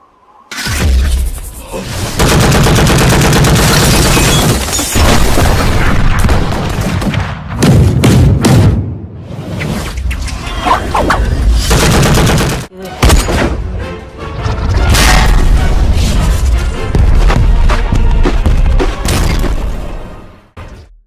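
Explosions and gunfire sound effects from the anime Youjo Senki: Saga of Tanya the Evil, loud dense booms, shattering blasts and bursts of fire in long continuous stretches, with brief lulls between barrages.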